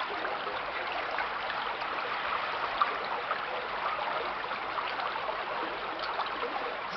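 Water streams steadily into a small ferrocement concrete dinghy afloat on the water, a constant hissing trickle with no breaks, moderately close and without talk.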